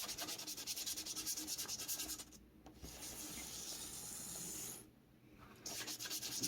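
Telecaster guitar body being wet sanded by hand with 1500 grit sandpaper, brisk rhythmic rubbing strokes close up with two short pauses, quiet and without talk.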